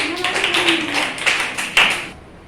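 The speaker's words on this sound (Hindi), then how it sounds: "बहुत बढ़िया, तालियां होनी चाहिए।" A class of students breaks into applause, a dense patter of clapping hands that stays steady for about two seconds and then stops abruptly, close and fairly loud.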